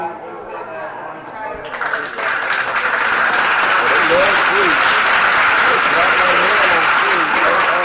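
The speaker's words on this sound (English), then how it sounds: "they ain't stop clapping" Audience applause at a free Monday comedy night at a theater cafe in Bexley, Ohio, swelling after a couple of seconds into loud, sustained dense clapping with someone talking over it near the start.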